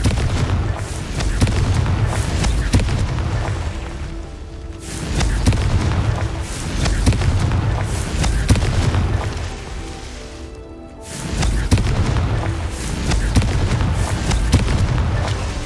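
Confringo blast spell explosions in the Hogwarts Legacy video game: loud, deep booming blasts with rumbling, sustained roars, three heavy waves close together with brief dips between.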